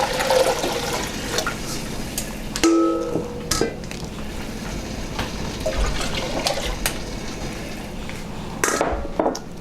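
White vinegar poured from a container into a pot for a pickling brine, a loud, close, continuous splashing pour with a few clinks of cookware and no talk.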